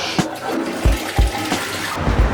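A toilet in a hotel bathroom flushes, its rushing water punctuated by several low gurgling thumps and splashes, close and fairly loud, with no talking.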